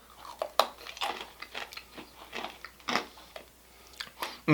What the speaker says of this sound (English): I'm going to take a little bite of it here.